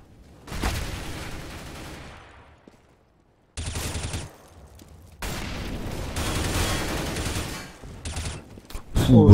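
Counter-Strike gunfire in a competitive match, with loud sustained bursts of automatic fire and a short silent gap, heavy and close.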